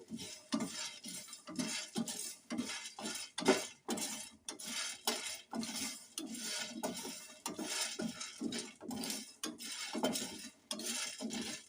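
Seeds dry-roasting in a pan for a spice powder, with a steady run of scraping and clinking stirs, a spatula or spoon rattling against the metal in an uneven, near rhythm and no talk.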